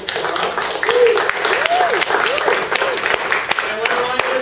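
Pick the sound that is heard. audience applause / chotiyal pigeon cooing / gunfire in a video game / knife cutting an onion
audience applause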